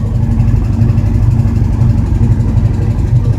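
A 1980 Chevrolet Malibu Classic Wagon V8 fitted with a BBK throttle body idles steadily and loudly up close, a deep, even rumble with a slightly rough, untuned pulse and no speech.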